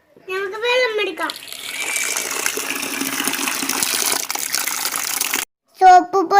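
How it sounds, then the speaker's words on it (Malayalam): Water gushes steadily from a tap into a bucket at home for washing clothes, a loud continuous pour; someone talks briefly before the water starts and again after it stops. "നമുക്ക് വെള്ളം എടുക്കാം."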